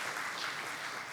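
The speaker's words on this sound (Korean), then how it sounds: "다시 한번 큰 박수 부탁드립니다." An audience at a Korean private broadcasting awards ceremony gives applause, a soft, even wash of many hands clapping at a distance for about a second.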